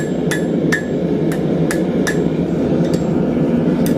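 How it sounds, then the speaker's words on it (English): Hot metal struck with a hammer on an anvil while forging an outdoor stake for glass vessels: about eight sharp, ringing blows at an uneven pace, loud and close over a steady roaring background hiss. "over to the anvil, just start working it around"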